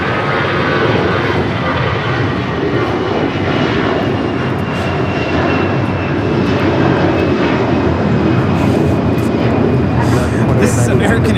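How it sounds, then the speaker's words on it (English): An American Airlines Airbus A321 takes off from LAX, bound for Dallas Fort Worth, with a loud, steady jet roar that holds for the whole stretch while faint voices sit underneath. "2890 taking off to Heyo, Dallas, Fort Worth on the A321"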